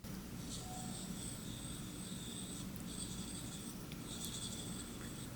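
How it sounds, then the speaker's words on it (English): A Samsung Galaxy Note 9 S Pen gives a simulated pencil drawing sound on the phone's screen: soft, scratchy strokes in a few bursts with short pauses, heard close against a steady low background hum. "So just like the Note 8, it does make a drawing sound, which is a very nice touch in my opinion."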